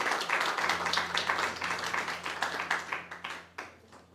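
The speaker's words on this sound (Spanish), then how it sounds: "Eso necesita un aplauso." A church congregation applauds for a few seconds, a brisk flurry of many hands clapping nearby that thins and fades out, with a low steady hum underneath.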